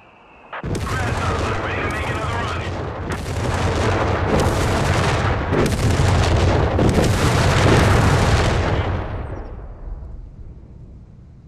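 World War II artillery from Company of Heroes 3 pounds in a loud, close barrage of heavy booms and blasts that roll on for several seconds before fading into a rumbling tail.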